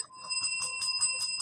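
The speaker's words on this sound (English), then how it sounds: "Ring the bell." A small bell rung rapidly, about six bright metallic dings in an even rhythm with a sustained ringing tone beneath, close and clear with no talking.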